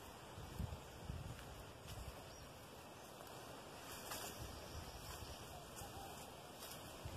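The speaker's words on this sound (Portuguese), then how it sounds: "Tá ventando bastante." Strong wind blows outdoors beside a fruit-laden pitomba tree, a steady rushing noise with faint rustling that buffets the microphone throughout.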